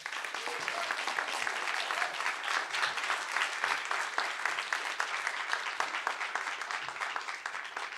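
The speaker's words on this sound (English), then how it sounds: "Continue the clapping for Treston." Steady, dense applause from an audience at a state poetry recitation competition, continuous for the whole stretch with no talk over it.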